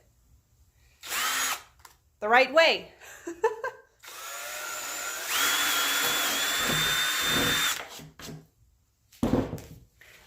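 A power drill whirs in short bursts and one longer sustained run as it drives into a wooden bread board, with a person speaking briefly between.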